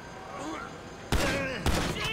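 Pistol gunshots in the video game GTA V: two sharp, loud shots about half a second apart, fired over quiet game ambience with a faint voice earlier.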